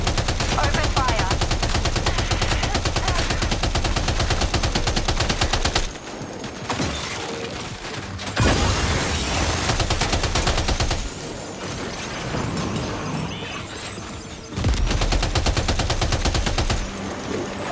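Rapid, loud automatic gunfire in Death Stranding 2 rattles in long continuous bursts, pausing briefly twice before resuming, while voices are heard during the quieter gaps.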